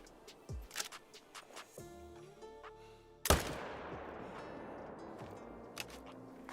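Gunshots in a hunting video game: scattered sharp cracks, then one loud close report around the middle with a long echoing tail, under a low hum of ambience.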